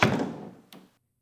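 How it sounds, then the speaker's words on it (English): A door swings open indoors in a small windowless yoga room at a gym, giving a single close thunk with a short rattling tail, then a brief second knock before silence. "let me get the door."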